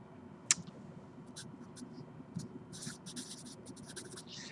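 A theorem written on a board during a math lecture, with scattered short marker or chalk scratches and taps over a quiet room hum, a sharp tap near the start, no clear talk.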